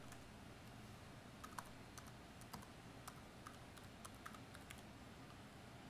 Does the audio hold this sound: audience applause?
no